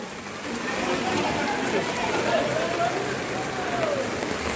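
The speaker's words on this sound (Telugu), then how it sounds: "వర్షం అయితే అసలు మామూలు లేదనమాట" Steady, dense heavy rain hiss fills the whole stretch at an even level, with no break or pause, on a flooded street in Kondapalli, Vijayawada.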